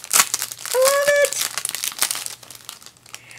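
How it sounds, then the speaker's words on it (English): A greeting card is pulled from its paper and plastic wrapping, with close, loud crinkling and rustling of the plastic and a brief squeaky scrape, continuing with softer handling noises. "I'm going to take it out of the paper, out of the plastic."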